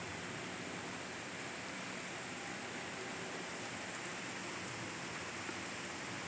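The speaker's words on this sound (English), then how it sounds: "the rain seems to be coming down a little bit heavier" Steady rain falling during a thunderstorm, a constant even hiss of drops on surfaces, fairly faint and continuous with no talk.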